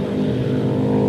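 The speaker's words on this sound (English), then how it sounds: "Young Brad Jones continues to lead in the Perrier Starion Turbo." Production race cars, including a Mazda RX-7 and a Starion Turbo, roar past at speed in the 1987 Production Car Trophy race at Adelaide, a loud, brief engine drone with no voices.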